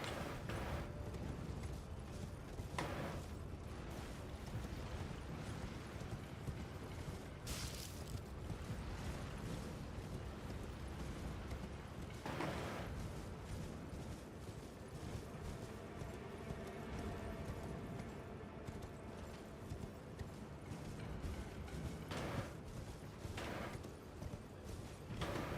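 Horse hooves clip-clop steadily in the Elden Ring video game, a continuous rhythmic trot mixed with mechanical game sounds and occasional bursts, steady and moderately loud throughout.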